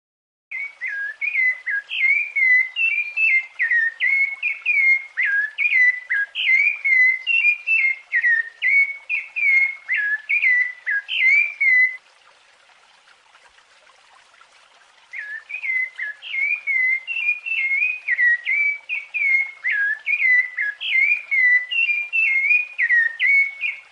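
A Brazilian songbird sings melodious, striking phrases of rapid warbled notes in a steady stream, clear and close against a quiet background, pausing briefly partway before resuming the same song.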